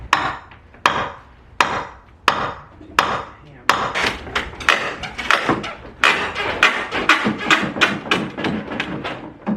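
A crowbar whacks junk during a removal job, six sharp, evenly spaced metallic strikes ringing out, followed by a faster flurry of loud, clattering hits, all close by.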